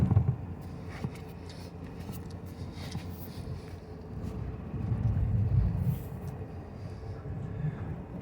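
A 1974 Citroën GS backs out slowly in reverse on a freezing morning, its engine a steady low rumble that swells briefly midway, close and continuous with no talking.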